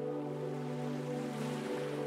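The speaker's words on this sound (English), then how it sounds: "You can hear the gentle lapping of the ocean waves as they roll up and onto the rock you are sitting on." Gentle ocean waves lap against a rock in a soft, continuous wash, steady and calm throughout.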